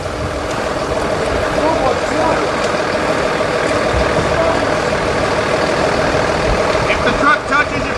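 A military truck engine idles with a low, steady rumble at an outpost base, while shouting voices carry over it the whole time.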